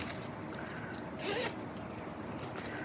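A heavyweight zipper on a small zippered craft bag with a boat-shaped pull, rasping once in a clear close pull near the middle, with soft faint handling clicks around it and no talk.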